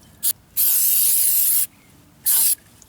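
Starter fluid sprayed from an aerosol can onto a new, factory-oily front brake rotor on a 2013 Mercedes C300 4Matic, heard as three close hissing bursts: a short puff, a long spray of about a second, then another short burst.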